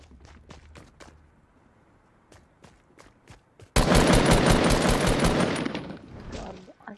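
Rapid bursts of gunfire from the video game Fortnite, a few sparse shots at first, then a dense, loud volley that runs for several seconds before tapering off.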